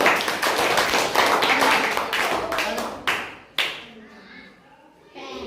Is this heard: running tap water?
no